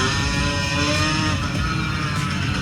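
A motorcycle revs hard and steadily during a wheelie, a loud, continuous engine drone with a buzzy mechanical texture and no voices.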